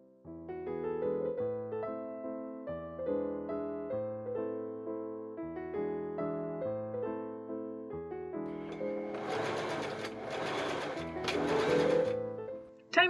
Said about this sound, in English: I machine sew a half inch seam allowance along the whole bottom of the skirt